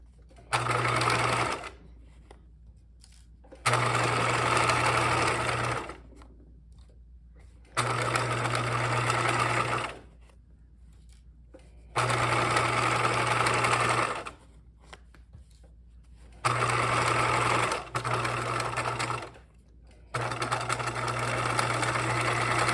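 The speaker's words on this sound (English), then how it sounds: "We're just sewing on the back of the bag to the other side." A sewing machine stitches the back panel of a backpack onto the body in repeated bursts of steady mechanical whirring, with short pauses between runs and no talk.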